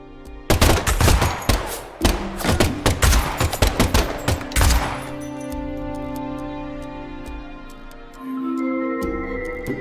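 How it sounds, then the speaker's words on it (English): Rapid bursts of gunfire from the video game Deadly Premonition 2, loud dense volleys crackling for about five seconds before giving way to a sustained ominous tone and low hum. "the last gunshot we heard sounded ominous, Zach."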